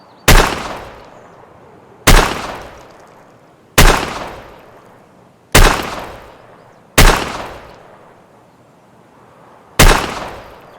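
Six loud single shots from a Chiappa Rhino .357 Magnum revolver in Escape From Tarkov, each a sharp crack with a decaying tail, evenly spaced about two seconds apart.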